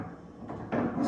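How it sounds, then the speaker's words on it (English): A barn door slides along its overhead track in a short rolling scrape that grows louder and closer over about a second, with no talking. "Slide the door out of your way."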